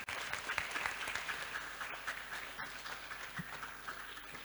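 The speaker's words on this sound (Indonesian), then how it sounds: "Tepuk tangan dulu teman-teman." A crowd at an evening Islamic school farewell talk show applauds steadily, a continuous wash of clapping filling the room for the whole stretch without talk over it.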